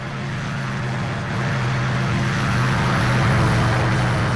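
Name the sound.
airplane flying overhead in a horror video game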